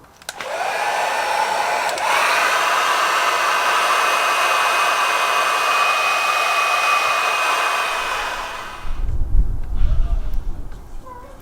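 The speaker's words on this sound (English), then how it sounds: "you can get the hairdryer to sort of work that adhesive and soften it up" A hairdryer blows steadily on a Honda CBR600 F motorcycle, warming the sticker adhesive: a loud, even hiss with a brief shift near the start, cutting off before some low handling thumps at the end.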